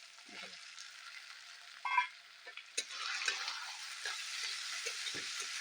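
Chopped tomatoes dropped into hot spiced oil for chicken kosha, a sudden hissing sizzle that rises and keeps going, with a few spoon clinks and stirring scrapes.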